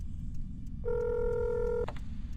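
A phone dialing the emergency number 112 in the video game Accident gives off a short burst of clear electronic tones that holds steady for about a second over a low background rumble.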